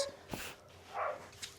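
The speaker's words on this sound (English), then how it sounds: "I couldn't think of why I could hear the dog so powerfully." Indoor dog barking, a couple of short sharp barks with a whimpering yip between them, fairly close and brief.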